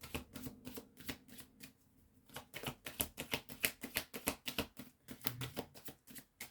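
Playing cards being shuffled by hand, a rapid run of crisp riffling clicks and flutters with a short pause before another busy burst, close and fairly quiet with no talking.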